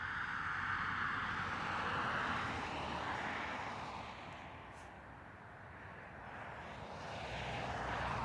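A Virgin Atlantic airliner passing over a house near Dublin Airport, its broad engine roar steady and moderately distant, swelling slightly at the start and end with a brief dip in the middle.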